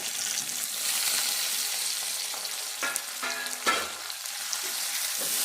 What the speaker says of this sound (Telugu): ఇప్పుడు బెండకాయ ముక్కలు వేసుకుందాము.